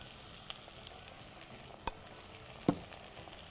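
Spice powder being stirred into cooked brinjal in a pan, a faint low sizzle with two sharp spoon clicks against the pan, no talking.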